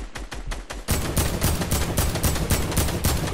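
Rapid bursts of video game gunfire crackle through an arena match, dense repeated shots fired close and loud in a fast, uneven rhythm, with no voices.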